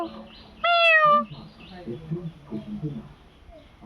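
A single cat gives one clear, loud meow in a garden setting, followed by quieter rustling and movement noises.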